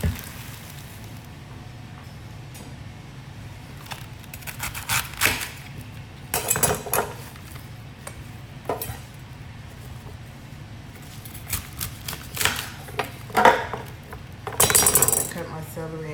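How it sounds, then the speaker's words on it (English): Knife cutting celery in half on a kitchen board, heard as a series of irregular sharp chops and clinks scattered through the stretch over a quiet background. "Cut my celery in half,"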